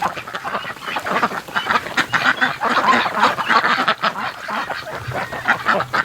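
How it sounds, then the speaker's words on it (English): Ducks quacking and honking continuously in snowy outdoor conditions, a dense, loud flock chorus with overlapping calls throughout. "And ducks."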